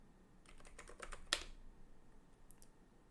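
Keystrokes on a computer keyboard entering a system update command during a CentOS 8 Stream install, a quick run of close, light clicks ending in one sharper key press, with a couple of faint taps afterward.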